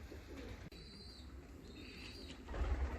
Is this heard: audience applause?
no